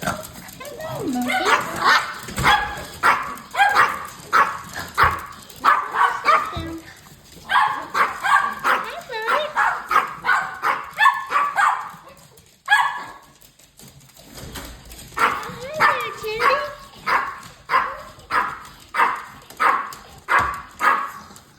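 Several dogs bark rapidly in excited bursts, with yips and whines mixed in, fairly close, pausing briefly before another round of barking.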